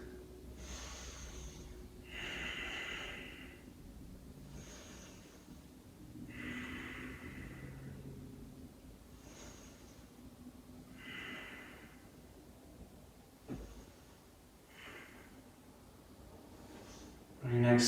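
Deep breathing during a yoga stretch: slow, audible inhales and exhales close to the mic, repeating in a steady cycle about every four seconds, alone without talk.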